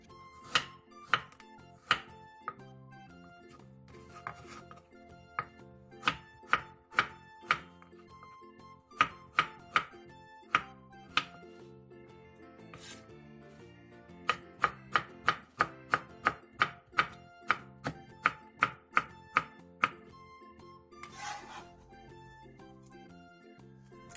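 A knife julienning cucumber, pear and pickled radish strikes a cutting board in sharp, close chops, sometimes single and spaced, sometimes in fast regular runs, with short pauses between batches.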